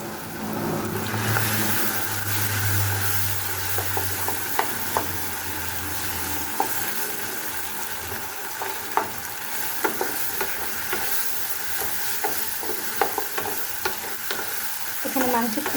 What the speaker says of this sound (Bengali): এখানে মাংসের কিমাটাকে আমি একটু ভাজা করে নিচ্ছি, যাতে কোনো পানি না থাকে।